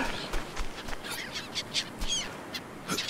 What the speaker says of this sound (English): Those birds sound amazing.